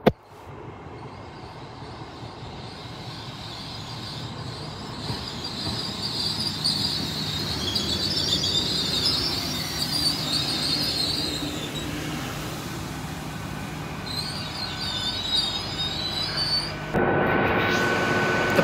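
A train zooms through a station at speed, a loud sustained rushing roar with rail squeal building and holding for nearly twenty seconds, then a sudden shift in tone as it passes.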